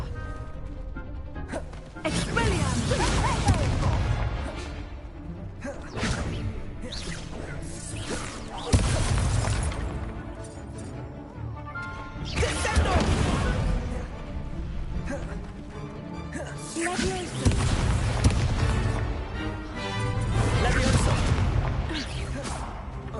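Confringo fire-spell blasts in Hogwarts Legacy erupt repeatedly as loud booms and crashes, spaced every few seconds amid whooshing spell effects, with spoken incantations between them.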